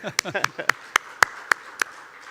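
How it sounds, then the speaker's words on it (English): Sharp, evenly spaced handclaps ring out at a ceremonial forum on ASEAN peace and tolerance, following a brief stretch of speech; the claps are crisp, sparse and fairly close rather than a dense crowd roar. "Give applause again."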